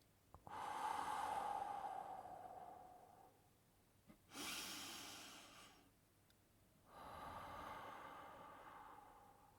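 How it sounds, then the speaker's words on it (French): Slow, deep breathing: a long drawn inhale, a pause, then a strong sustained exhale, followed by another long breath, close and quiet with no talking, as in a guided meditation. "Juste inspire très profondément. Et expire longuement."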